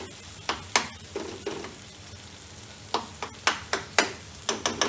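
Spices sizzle and fry in a pan over a gas flame, a constant crackling hiss broken by repeated sharp scraping stirs and spits, close and fairly loud.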